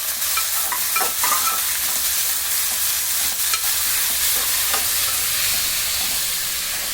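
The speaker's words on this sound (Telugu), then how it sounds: "ఈ ఉల్లిపాయలు వేగేలోపు" Sliced onions frying in oil in a pan with mustard seeds, fenugreek seeds and curry leaves, a loud continuous sizzle with occasional stirring scrapes and pops, no voices.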